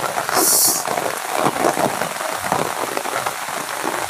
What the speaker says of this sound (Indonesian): Kemarin tuh terang tapi ini tiba-tiba itu hujan.